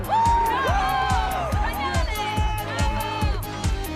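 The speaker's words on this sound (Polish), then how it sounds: "A teraz brawa dla dziewczyn!" A cartoon crowd at a school event cheers, whoops and claps in quick repeated bursts, a lively near chorus of young voices right after an announcer calls for applause.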